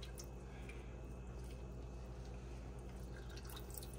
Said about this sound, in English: now I'll go ahead and squeeze in some lemon juice.